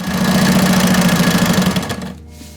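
A sewing machine stitches recycled sail fabric with a half-inch seam, running in a steady loud whir for about two seconds before it stops and quiets.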